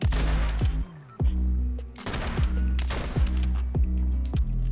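A newly found gun firing in a video game: a run of loud, rapid shots in quick bursts, each crack sharp and close, with a short pause partway through before the firing picks up again.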